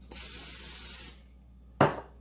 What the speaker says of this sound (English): I use Pam spray and just slightly